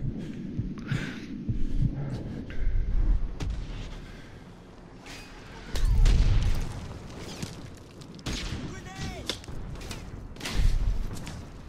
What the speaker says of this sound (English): Another exploding vehicle, boys and girls.